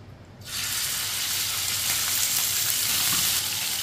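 Small chicken pieces for chicken karela drop into hot oil, and a loud, even frying sizzle starts abruptly and continues steadily.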